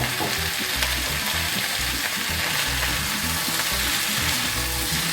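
Sliced bitter gourd (karela) toasting in a hot pan, a loud, dense, even sizzle throughout with faint low thumps of stirring, no voices.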